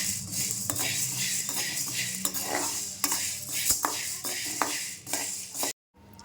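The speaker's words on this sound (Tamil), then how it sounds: "100 மிளகு வறுத்துக்கலாம். வாசனை வர அளவுக்கு வறுத்துக்கலாம்." Black peppercorns dry-roasting in a pan for homemade chilli powder, stirred steadily with a utensil that scrapes and clinks, while the dry seeds rattle and rustle close up and alone, then stop abruptly near the end.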